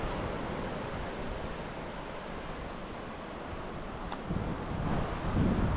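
Wind gusts roar across the microphone on Four Mile Beach in Port Douglas, a continuous broad hiss with surf rumbling faintly beneath and swelling near the end.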